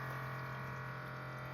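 LifeWave X20 water machine flushing water out through its tube, a steady low hum of pumping with continuous running-water hiss throughout, close and fairly quiet.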